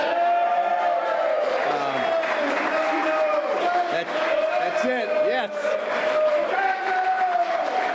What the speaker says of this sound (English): let's hear a little cheer for these two guys